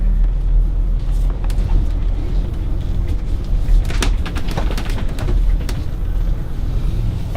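A car cruises along a main road, Theater Drive in Paso Robles, heard from inside as a loud, steady low rumble with light rattles throughout, no talking.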